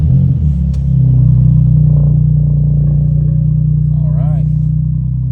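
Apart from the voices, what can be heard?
BMW M4 engine starting and running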